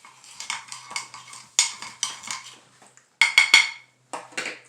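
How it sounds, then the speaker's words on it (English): A spoon scrapes no-bake cheesecake mixture from a bowl in a string of short, bright scraping and clinking strokes with brief pauses between them, close by and with no talking. "I need to get the spoon and scrape it because there's so much more in here."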